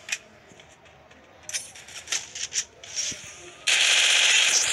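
MP40 submachine gun fire in the Free Fire battle game comes as scattered sharp shots, then a sustained loud burst near the end, with no talk.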